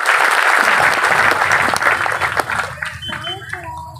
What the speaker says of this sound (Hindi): उनके लिए भी जोरदार तालियां बजा दो।